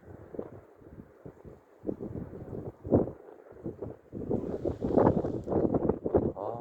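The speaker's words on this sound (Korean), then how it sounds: "아 바람 진짜 많이 분다" Strong wind blowing at a fishing spot, loud gusty buffeting across the microphone that rises and falls in bursts and grows heavier toward the end.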